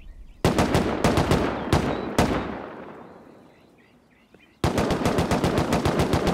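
Rapid automatic gunfire in the Rust survival game during a raid, loud bursts of evenly spaced shots at start and end, with single louder cracks and a long decaying echo between, no talk.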